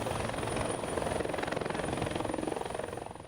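Two helicopters setting down at Odyssey Aviation in New Providence, with a steady rhythmic thudding of rotor blades close by and a constant turbine whine that holds throughout.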